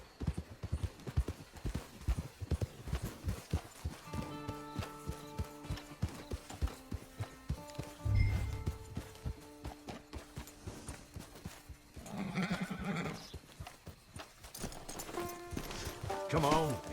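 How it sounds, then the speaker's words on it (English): Horse hooves clip-clop in steady rhythm in Red Dead Redemption 2 Online near a camp, mixed with game music and other effects, with a brief low thump midway and people talking at times. "It's your horse."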